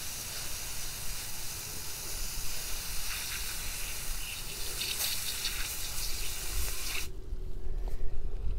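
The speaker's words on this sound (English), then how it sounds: "So all we need to do is spray the aphids off with your water hose." Garden water hose spraying aphids off a milkweed plant, a continuous hissing jet of water close by that runs steadily and cuts off abruptly near the end, leaving a quieter background.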